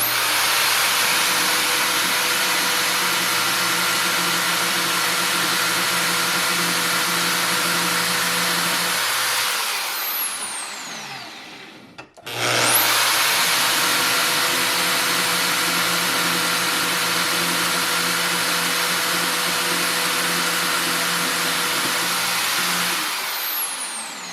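A power tool cuts steel bar stock for making woodworking chisels, a loud, steady grinding whine that runs continuously, briefly dies out midway, then starts again and carries on at full strength.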